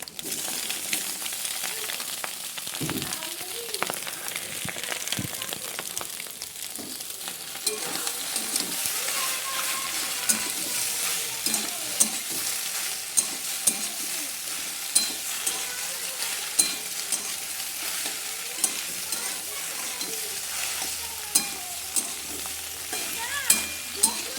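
Pasta frying together with egg in a pan and stirred, giving a steady close sizzle with frequent scraping and stirring clicks, with no talking.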